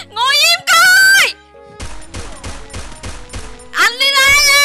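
Bursts of gunfire from the Free Fire video game crack out in a rapid run of evenly spaced shots, loud and close, between stretches of high-pitched synthetic game tones.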